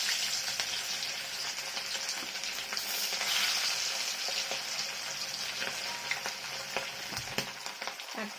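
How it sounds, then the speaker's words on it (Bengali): Hilsa fish pieces frying in mustard oil in a kadai, a dense, loud, continuous sizzle and spatter that holds steady throughout, with a few utensil knocks near the end and no speech. "এবার সর্ষের তেল দিয়ে দেবো। এবার মাছগুলো একটা একটা দিয়ে দেবো।"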